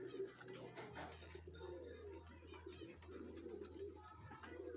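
A high-flyer pigeon coos softly in low, rolling phrases against a quiet background hum, with faint bird calls and a little indistinct talking.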